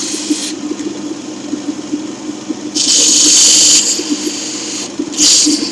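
A 600-grit rubber polishing wheel shapes a rough opal over a steady motor hum, with two bursts of wet, hissing grinding as the stone presses against the wheel.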